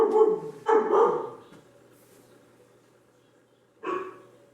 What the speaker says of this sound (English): We just got a package from Amazon, so my dog is like freaking out.